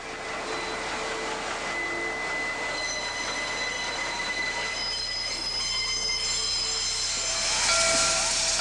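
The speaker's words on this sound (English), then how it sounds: "As we wait, an inbound freight switches its train." An inbound freight train switches in a rail yard, steel wheels squealing in long, high sustained tones over a steady rumble and hiss, continuous and fairly close, with no voices.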